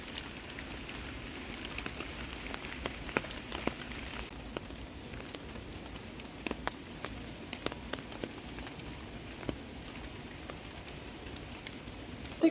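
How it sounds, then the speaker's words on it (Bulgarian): Heavy rain falls over the city of Taipei, a steady hiss of drops with scattered close patters and splashes on nearby surfaces, holding at a moderate level throughout. "дъждът се засилваше все повече и повече"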